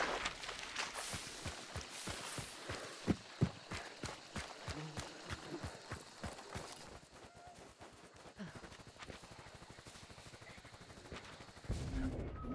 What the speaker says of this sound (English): There's gunshots everywhere